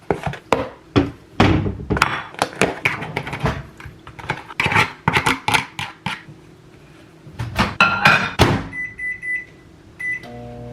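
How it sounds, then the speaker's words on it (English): A microwave oven warming up leftover pasta gives a run of thunks and clatter from the door and dish, then a steady hum and a couple of closing beeps, all close and with no talk. "Warming up my leftover pasta from last night for a little early dinner."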